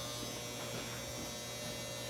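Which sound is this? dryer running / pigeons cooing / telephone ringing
dryer running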